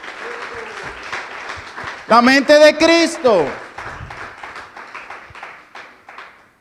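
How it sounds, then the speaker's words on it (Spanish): Church congregation breaks into brief applause and cheering under a preacher's amplified voice, a loud burst lasting about a second and a half before the sermon talk carries on. "Puede dar un aplauso al Señor."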